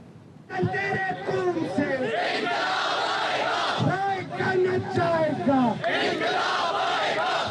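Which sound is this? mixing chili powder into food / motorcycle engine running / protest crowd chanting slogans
protest crowd chanting slogans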